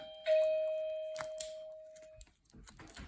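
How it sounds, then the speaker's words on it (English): A single electronic doorbell chime for a house rings out clearly, heard from a garden room, a sustained tone that slowly fades, followed by faint rustling and soft background noise. "I am out in the garden room, and that is my doorbell for the main house."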